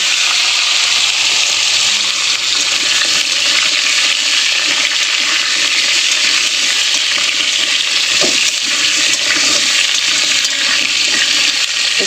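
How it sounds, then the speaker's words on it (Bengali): Potatoes cut into thin strips fry in hot oil tempered with panch phoron, giving a steady, loud, continuous sizzle that holds evenly throughout, with no voices. "তো চলো আলুগুলো আগে একটু ভেজে নিই"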